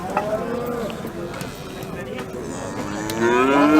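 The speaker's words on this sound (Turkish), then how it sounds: "Bunlar bizim de inekler. Ha, şu inek ve buzağısı var." Cows low loudly and close by at a busy Turkish livestock market, with long drawn-out moos and a calf nearby, while people talk amid the crowd noise.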